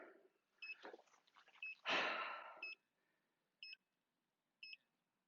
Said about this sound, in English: It beeps a lot too.